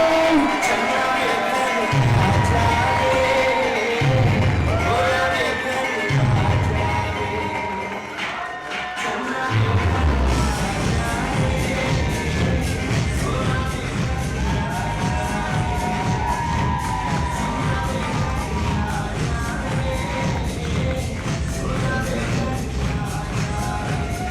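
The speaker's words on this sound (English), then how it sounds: "Big round of applause, ladies and gentlemen." Wedding reception crowd for a bride and groom, cheering and whooping loudly with a pulsing beat behind, a brief dip near the middle before the noise swells again and holds steady; an announcer's voice cuts in over the din.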